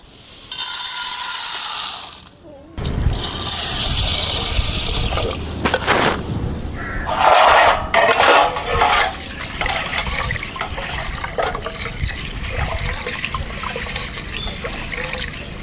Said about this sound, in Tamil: தண்ணி ஊற்றி சுத்தம் பண்ணி எடுத்துக்கலாம்